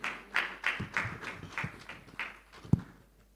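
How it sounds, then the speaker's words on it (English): Scattered, modest clapping from a conference audience applauding a presenter, a few sharp individual claps and thumps trailing off into quiet near the end. "A round of applause for him, please."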